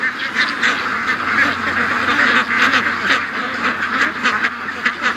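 Many ducks quack together in a busy, continuous chatter, with some louder honking calls rising out of the group.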